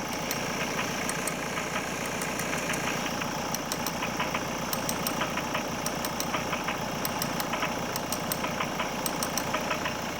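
A running engine's fuel injector is picked up through a Steelman Pro Chassis Ear contact microphone, making a steady, rapid, close mechanical ticking over a constant engine hum that carries on for the whole stretch.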